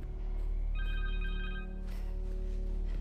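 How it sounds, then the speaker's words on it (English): A phone rings in Marvel's Spider-Man 2 with a short electronic trill of bright warbling tones, heard over loud steady low game ambience and music. "A phone."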